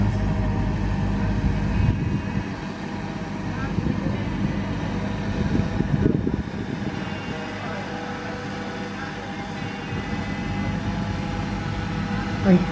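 A flying drone's rotors whine with a steady droning hum that holds level throughout, carrying a broad noisy wash over rubble and concrete pipes at a disaster-rescue test site.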